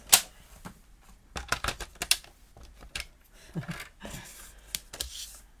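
A stamped paper panel for a handmade card being trimmed: a series of close, irregular clicks and slicing or scraping sounds with short pauses, heard alone.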